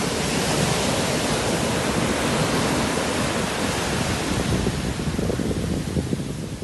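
Ocean waves break on the seashore in a continuous broad roar of surf, steady and fairly loud with no voices, easing slightly toward the end.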